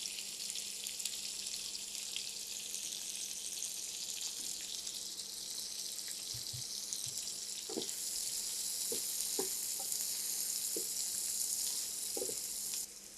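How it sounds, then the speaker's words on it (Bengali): Four small onions, sliced into rounds, fry steadily in hot oil with a constant bright sizzle. Occasional soft clinks and stirring knocks punctuate it, and no one speaks. "এই তেলটার মধ্যে এখানে আমি ছোটো ছোটো ৪টা পেঁয়াজ গোল গোল করে কেটে নিয়েছি"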